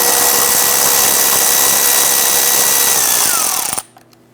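A power tool spins out 8mm screws along the bottom of the radiator on a 2011-2019 Ford Explorer, a loud close continuous high whine that winds down and stops abruptly near the end, leaving near silence.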